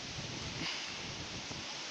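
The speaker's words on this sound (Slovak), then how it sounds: "Fúka vietor" Wind blowing outdoors at a tree, steady broadband rushing and buffeting noise across the microphone, continuous and fairly loud with a slight gust swell partway through.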